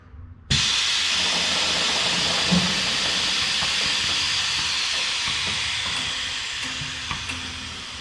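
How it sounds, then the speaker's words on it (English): Air compressor on an M1161 Growler ITV 4x4 light strike vehicle kicks on abruptly and runs as a loud, steady hissing whir that eases slightly over several seconds, with no talking. "just turn the compressor on and build the air up"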